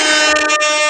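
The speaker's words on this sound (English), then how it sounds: "We're gonna give her an air horn just cause," An air horn sound effect blares in one loud, sustained, rich harmonic blast that fills the whole second.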